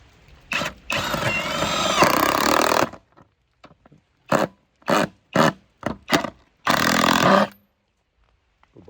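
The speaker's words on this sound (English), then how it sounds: "I'll just screw this onto there now." Fitting being screwed onto a farm gate, with bursts of mechanical whirring from a driver at close range, a long run followed by several short pulses and pauses.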